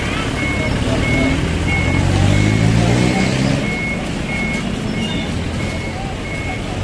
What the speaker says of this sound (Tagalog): Kaya pinaporma na nila yung tow truck para isakay nga ito puting sasakyan.